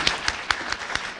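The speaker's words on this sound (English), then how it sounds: "We do a round of applause for you, too." A few distinct hand claps at a Rotary club meeting, spaced at a steady rhythm over about a second, close and fairly loud, with no talk.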